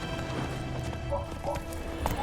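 Horse hooves clip-clopping at a quick, rhythmic pace over a steady low rumble of ambient sound in The Witcher 3 video game, fairly quiet and even.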